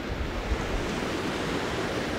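Ocean surf washing steadily onto a beach as the tide goes out, a continuous broadband roar with a slight swell, fairly close and loud, with no voices.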